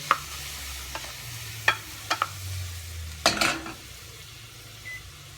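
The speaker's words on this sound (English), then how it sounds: "Now that we got it cooking up, browning a little bit, starting to get some of the sweat on the onions and the peppers" Onions and peppers sizzle softly in a pan, a quiet crackle broken by a few clinks of a utensil and a brief louder burst of stirring, with a low hum underneath.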